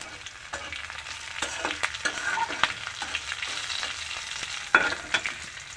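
Nigella seeds (kalo jeera) frying in hot oil with green chillies while cooking dhenki shak, a fern-leaf stir-fry, giving a steady close crackling sizzle with scattered sharp pops and stirring scrapes, no voices.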